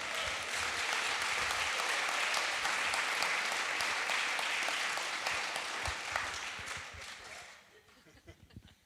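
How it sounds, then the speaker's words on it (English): Sustained audience applause at a clean-economy Q&A talk, a dense wash of clapping from a crowd that holds steady for about seven seconds before thinning into scattered claps. "And you applauded that."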